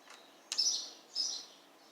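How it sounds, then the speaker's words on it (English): Two faint, high chirps from a bird, spaced apart in an otherwise quiet setting. "Birds sound pretty cool, huh?"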